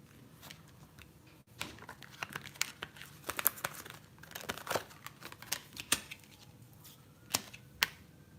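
A tarot deck is shuffled close up, the cards giving irregular crisp riffles, snaps and slaps at a quiet level with no voice.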